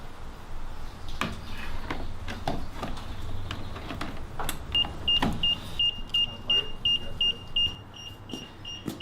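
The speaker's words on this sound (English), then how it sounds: "So that beeping noise is normal and it's going to be going off." An Infinity Shield receiver's beeper goes off in a series of short, evenly spaced electronic beeps, heard close over a background hum and some clicks from the wiring work.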